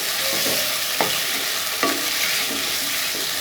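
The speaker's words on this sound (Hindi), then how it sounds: "अब ऑयल गर्म हो गया। अब इसमें हम डालेंगे गोश्त। इसको अब हम मिलाते हैं।" Pieces of mutton sizzle loudly in hot oil for a karahi, a steady frying hiss broken by a few scraping stirs of a spoon in the pan.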